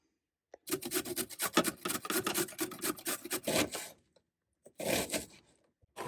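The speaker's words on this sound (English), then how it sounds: "a carrot that I'm going to grate. So I'll pop this aside while I grate my carrot" A carrot is rubbed against a kitchen grater in quick, rasping strokes, close and fairly loud, running steadily for a few seconds, pausing briefly, then starting again with a few more strokes.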